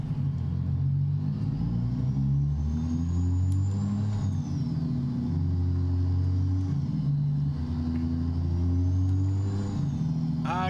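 Low rumbling Kenworth W900 truck engine in American Truck Simulator revving up and down with shifting pitch, a smooth, synthetic-sounding drone that stays loud and constant throughout.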